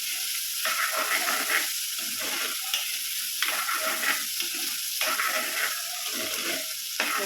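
Chunks of elephant foot yam sauté in hot oil for a Kerala coconut-free theeyal, giving a loud, steady sizzle with repeated scraping stirs of a spoon through the pan close up, no voices.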